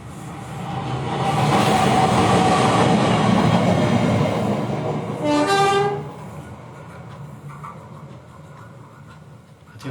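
A train rumbles past close by, building then fading, with a short horn blast partway through and quieter clatter trailing off.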